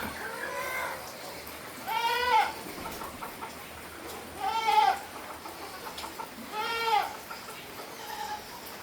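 Three separate goat bleats, each a wavering, nasal call, spaced a couple of seconds apart over a quiet outdoor background.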